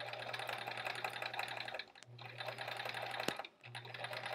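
A sewing machine stitching through quilt fabric for a flying geese block, running in steady whirring bursts broken by two short pauses, close and clear.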